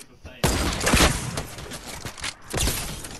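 Video game gunfire hitting a wall, a short dense burst of loud shots starting suddenly and sustained with a second surge near the end, with voices talking over it.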